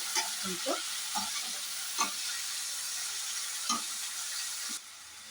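Food being stirred in a sizzling frying pan, curry leaves among the ingredients, with steady frying hiss and a series of distinct scraping stir strokes spaced through the clip, then the sizzle drops off at the end.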